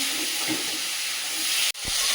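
Small fish fry in oil in a pan over a gas flame, giving a loud, steady, close hiss that cuts off abruptly near the end and then resumes.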